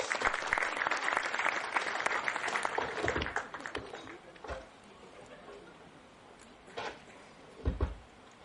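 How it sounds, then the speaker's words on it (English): Audience applause at a students' day event welcoming the president to the dais, a dense wash of many hands clapping that thins after about four seconds into a few scattered claps and knocks. "Please welcome him with a round of applause"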